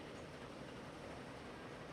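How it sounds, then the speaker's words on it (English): Steady rumble of a train rolling past in Transport Fever 2, a continuous rail noise with no distinct breaks, fairly quiet and even throughout. "Oh, we gotta wait for a train."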